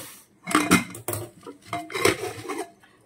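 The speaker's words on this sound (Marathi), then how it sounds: "कुकरचं टोपण काढून घेऊया।" A pressure cooker lid is taken off after cooking peas and spinach, giving several close, sharp metallic clanks and scrapes of steel on steel in irregular bursts, with no talk.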